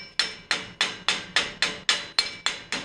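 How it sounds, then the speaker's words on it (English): A chipping hammer strikes slag off a fresh weld bead in ten sharp metallic knocks at an even rhythm about two per second, close and loud, each ringing briefly before the next. "we're going to use our chipping hammer and we're going to chip that off"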